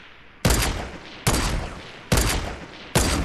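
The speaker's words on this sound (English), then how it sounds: "Nathan, stop shooting!" Video game gunfire in four sharp, loud, evenly spaced bursts, each one a crack followed by a decaying tail, close and alone without voices.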